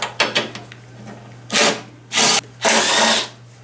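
A power drill runs in short bursts while backing out the bolts holding a fuel tank, first quick stuttering pulses then three longer loud whirs, close up over a low steady hum.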